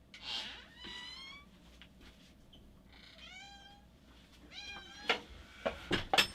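A domestic cat meows indoors several times, soft, rising calls spaced apart in a quiet room, followed by a few sharp clicks near the end.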